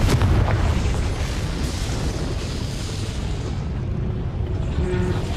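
The Confringo fire spell explodes in the Hogwarts Legacy video game with a loud, dense, sustained blast and rumble that fills the whole moment without easing off.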